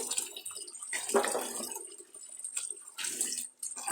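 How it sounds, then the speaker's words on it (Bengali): New potatoes being washed in water to rinse off sand: intermittent splashing and sloshing close by in a basin, in short bursts with quiet gaps between. "আলুটা ধুয়ে নিতেছি"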